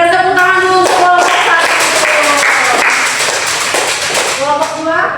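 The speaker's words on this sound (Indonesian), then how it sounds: "Berikan tepuk tangan dulu untuk kelompok" A school class applauds a student group, a loud, dense round of clapping that runs nearly five seconds alongside some voices.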